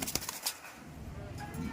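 A pigeon in a loft flaps its wings in a couple of quick bursts close by, followed by a softer rustle and low murmur.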